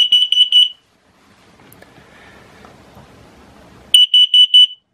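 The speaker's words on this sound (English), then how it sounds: "That's the CO2 alarm, the flashing light and the quick beeps." An RV gas detector runs its self-test, sounding a burst of quick, high-pitched carbon monoxide beeps, then going quiet, then sounding another rapid burst of four short beeps, loud and close.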